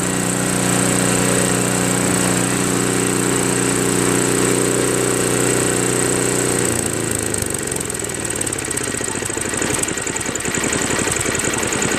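Craftsman 5HP dual-stage 24-inch snow blower engine idling after a carburetor fix, a loud steady small-engine drone that shifts to a rougher, pulsing rhythm partway through.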